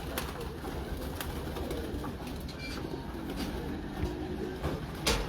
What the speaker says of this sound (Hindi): दोस्तों ये कबूतर है 18 नंबर, मेन बड़ा कबूतर 18 नंबर।